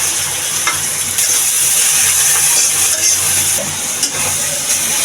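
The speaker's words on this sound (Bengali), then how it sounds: "এখন পেঁয়াজগুলো আমরা ভাজবো।" Onions fry in hot oil in a pot for halim, a loud continuous sizzle heard up close with faint stirring clinks and no talk.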